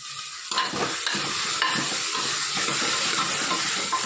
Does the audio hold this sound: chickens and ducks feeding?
no